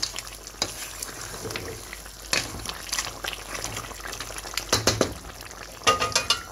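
Goat meat frying in a pot while it is stirred hard, a loud wet sizzle broken by heavy scraping strokes and knocks of a spoon, close and uneven, with no talking.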